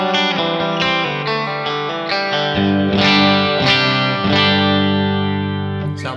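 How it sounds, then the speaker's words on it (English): Telecaster electric guitar played through a Kemper profile of a low-powered tweed twin amp on its bright channel, ringing chords and single notes with a slightly driven, clear tone, loud and continuous with no talking. "This is the bright channel of a low-powered tweed twin amplifier. And it sounds like this with a telly."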